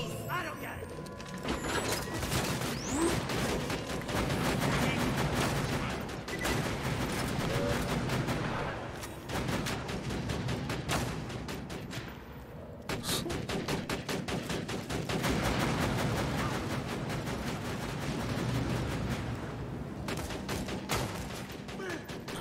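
A Borderlands 2 turret and other guns keep up rapid, dense, mechanical automatic fire in a shooter game, loud and nearly nonstop with short breaks, while a player talks over it.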